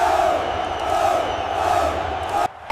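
A packed stadium crowd at the 1986 World Cup match between Argentina and England keeps up a dense, continuous roar of voices and shouts, close and loud, before the sound cuts off abruptly near the end.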